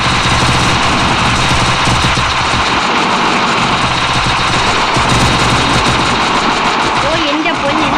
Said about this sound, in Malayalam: ഓ എൻ്റെ പൊന്ന്, എന്തൊരു വെടിയായി